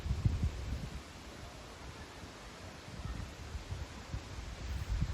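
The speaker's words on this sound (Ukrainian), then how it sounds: "трохи піднявся вітер уже" Wind gusts through autumn forest trees near Kyiv, a soft rushing rustle with low buffeting bursts that rise and fall unevenly.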